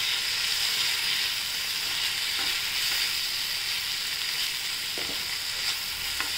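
Chopped spinach sautéing in hot oil for garlic spinach bhaji gives a steady, close, even sizzle and hiss with a few faint stirring clicks, and no voices.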